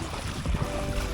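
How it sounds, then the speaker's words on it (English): Small fishing boat motoring on the Menai Strait while searching for bass, a steady low engine drone mixed with wind buffeting the microphone and water wash, continuous and fairly loud. "Just bring that engine up a bit more."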